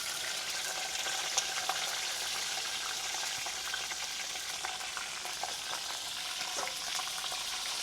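Green chillies fry in hot oil with a steady, dense crackling sizzle that stays fairly even and close throughout, with faint scattered pops and no voices.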